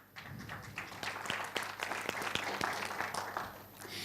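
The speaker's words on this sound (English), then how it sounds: "please keep the applause going" Audience applause at a speaker-introduction event, a steady spread of many hands clapping at moderate distance, continuing without interruption for several seconds.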